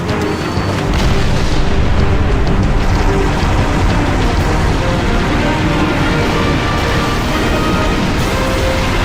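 A pylon detonates in a Halo game, a loud, sustained rumbling boom that swells early and then rolls on as heavy low-end debris noise for several seconds, with no speech over it.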